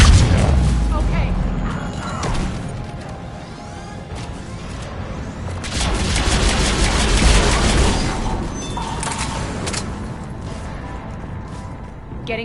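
Heavy booms and crashes of cannon fire roll through a busy Mass Effect 3 Legendary Edition game soundscape, with bursts of impacts and rumbling under a speaking voice.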